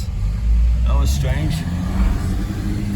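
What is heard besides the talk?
car with a broken engine driving away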